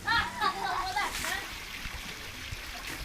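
Spring water pours and splashes steadily from a roadside mountain spout in the hills, a continuous bright rushing close by, with someone talking over it.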